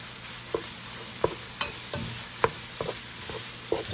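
Sausage and partly melted butter sizzle in a frying pan alongside onions, a steady hiss underneath a series of sharp utensil scrapes and taps recurring every half second or so, close and moderately loud.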